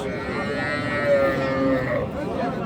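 A dairy cow lowes at a Raniganj cattle market where cows are sold with their calves. One drawn-out, tonal moo rises and sustains for about a second over a busy background murmur.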